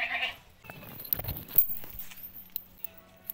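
A small goat on a rural Indian farm bleats once briefly at the start, fairly close, followed by faint shuffling, footsteps and clinking in a quiet setting.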